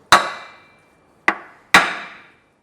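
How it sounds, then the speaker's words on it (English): Three sharp metallic hammer taps seating a bearing during a Toyota 80/100 Series part-time 4WD kit installation, the first two spaced apart and the last quickly after, each ringing briefly before fading. "Light tap with a hammer, and on he goes."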